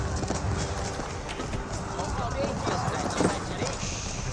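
Horse hooves from the Age of Empires 4 strategy game, rapid clip-clopping of cavalry amid battle noise, continuous and moderately loud under a commentator talking.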